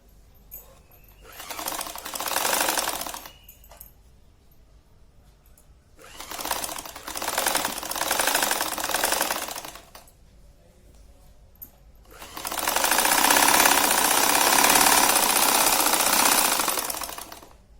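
A sewing machine stitches a ruffle frill envelope cushion cover in three rapid, loud mechanical bursts, the last one longest, with quiet pauses between and no talking.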